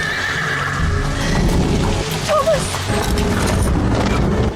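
A horse neighs and whinnies in a scene from the film Nosferatu, a mid-distance call over a dense, rumbling soundtrack with hoof clatter and rain-like noise.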